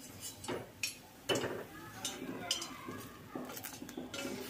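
Fried langcha lifted straight from a kadai into warm syrup brings quiet metallic clinks and scrapes of a utensil against the pot, spaced out irregularly, with faint talk underneath.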